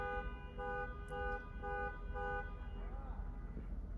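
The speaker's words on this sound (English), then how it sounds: "Oh, so it's just honking. We got people honking." Car horns honk outside in a short series of evenly spaced toots, faint and distant beneath a steady low rumble of traffic, followed by a fading whine.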